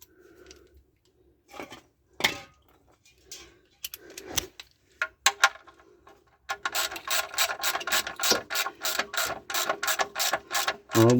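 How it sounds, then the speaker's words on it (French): An oil drain plug is refitted into the sump of a Fiat Panda 4x4 and tightened with a ratchet, starting with sparse clicks and a few handling knocks, then breaking into a fast, steady run of close ratcheting clicks. "on remonte le bouchon sur le carter"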